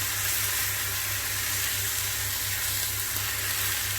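Grated onion and curry leaves frying in a pan for a Kerala barracuda fish masala, a soft, steady sizzle and hiss that runs unbroken, fairly quiet and close, with no voices.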